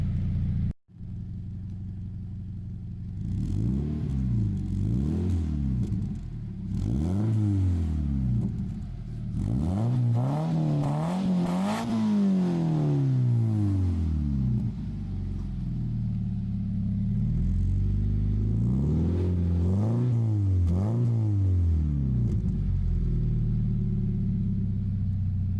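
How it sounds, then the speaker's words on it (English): Scion FR-S with a Supertrapp WaveTech muffler driving on a road, repeated throttle revs rising and falling through the gears with a deep exhaust note, close and loud over continuous road noise, no voices. "So let's take it out on the road, give it some revs, and see how it does."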